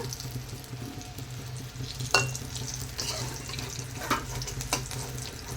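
Brinjal slices fry in a pan with a steady close sizzle, broken by a few sharp clinks and stirring scrapes, alongside a running-water hiss in the background.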